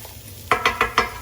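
Stovetop paella sizzles in a pan under four quick, bright scraping strokes, close and fairly loud against a low background hiss.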